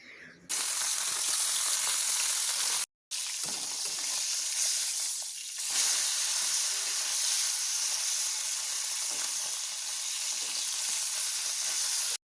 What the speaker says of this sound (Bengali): চলুন মাছগুলো এখন ছোট্ট ছোট্ট করে ভেজে নিই।